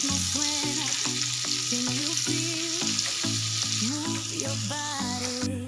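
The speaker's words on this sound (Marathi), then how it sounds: "पनीर तळून घ्यायचं।" Spice-marinated paneer cubes fry in hot oil with a steady, loud sizzle and crackle lasting throughout, while music plays over it.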